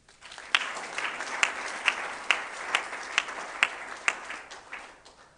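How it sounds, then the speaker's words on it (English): Conference attendees at a Kenyan technical university's visual culture event clap in thanks for absent speakers, a fairly faint, steady round of applause with scattered sharper claps throughout. "just clap and say thank you"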